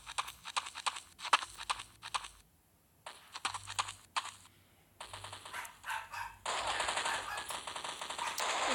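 Gunfire in the mobile shooter Counter-Strike Portable: rapid bursts of automatic shots crackle in quick clusters with brief pauses between them, then build into sustained continuous fire, with no voices over it.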